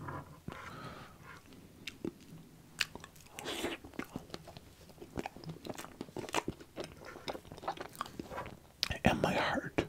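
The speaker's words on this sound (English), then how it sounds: "how's he chew ice cream?" Close-miked ASMR eating of ice cream brings sharp wet bites and crunchy chewing clicks in an irregular rhythm, with soft vocal sounds between mouthfuls.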